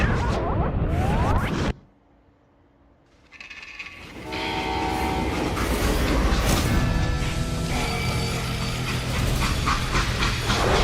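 A steam freight train in the Wild West shooter Call of Juarez: Gunslinger, on the level Death Rides a Steel Stallion, is heard as a loud rumble that drops away briefly, then surges back with hissing steam and bright whistle-like tones.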